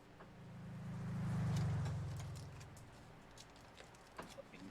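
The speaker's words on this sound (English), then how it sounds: "Just random truck drives by." A truck drives past, its low engine rumble swelling to a peak at mid-clip and then fading away, with faint background noise around it.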